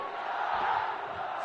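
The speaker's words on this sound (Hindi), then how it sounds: "रेंद्र मोदी जी का हाजीपुर की इस पावन धरती पर हम सब जोरदार तालियों से हम लोग स्वागत करें" Crowd at a political rally in Hajipur, India, roaring and cheering in a continuous, dense wash of many voices, loud and sustained throughout.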